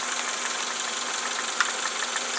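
Idling engine of a 1990 Honda Accord heard close up through a stethoscope, a steady dense hiss-like rumble with fine rapid valve-lash ticking throughout, no voices.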